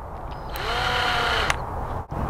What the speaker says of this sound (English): Take your screw gun and just gently, and it's not very tight at all.